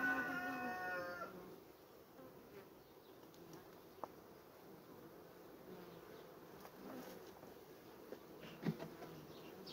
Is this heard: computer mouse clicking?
no